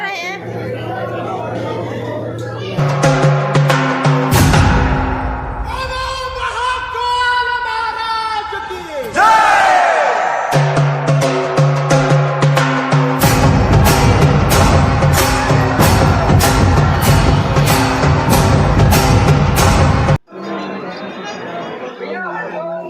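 A dense crowd of pilgrims fills Mahakal temple in Ujjain with constant chatter, while loud ringing metallic tones and bell-like strikes repeat over the murmur and a voice talks close by.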